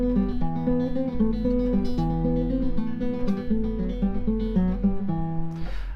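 Bass guitar plays the main theme of Albéniz's Asturias as a steady, rapid run of repeated plucked notes over a low pedal tone, continuous and fairly loud with no voices.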